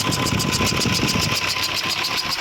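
Ashok Leyland BS3 truck diesel engine just started and running steadily, a loud, continuous near rumble with rough knocking texture and no voices.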